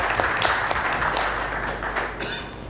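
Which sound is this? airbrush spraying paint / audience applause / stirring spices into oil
audience applause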